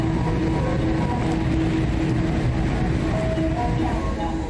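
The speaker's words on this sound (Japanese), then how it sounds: "8番乗り場に電車が参ります。" Train arriving at platform 8 at Maibara station, a steady heavy rumble and rolling rail noise filling the platform, with a faint tonal whine drifting in toward the end.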